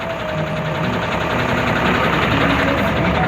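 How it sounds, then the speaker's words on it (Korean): A 2016 Prima 4.5-ton wing-body truck's diesel engine idles steadily, a loud, continuous low rumble with a faint knocking texture and no breaks. "그럼 실내 내부 보시기 전에 엔진 소리 듣고 보시도록 하겠습니다."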